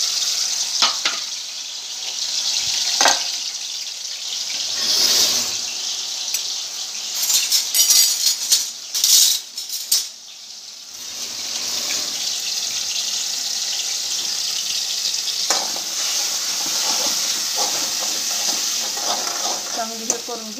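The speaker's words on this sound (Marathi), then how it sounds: "आता तेलामध्ये प्युरी टाकायची." Vegetable purée for a drumstick (shevga) dish is stirred into hot oil and fries, giving a steady loud sizzle with scraping and stirring noises on top, close up.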